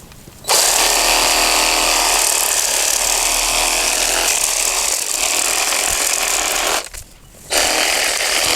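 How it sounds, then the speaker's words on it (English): Reciprocating saw cutting into a clump of switchgrass, a loud continuous buzzing rasp that starts abruptly, runs for several seconds, pauses briefly, then resumes. "I'm going to take my reciprocating saw"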